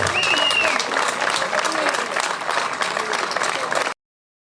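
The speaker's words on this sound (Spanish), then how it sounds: "Forte aplauso, que merece e ben" Crowd applause at a hill climb rally awards ceremony salutes a third-place finisher, sustained, dense clapping from many people for about four seconds before cutting off abruptly, with a whistle and voices mixed in early.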